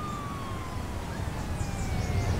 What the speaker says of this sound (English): The siren's starting to creep in a little bit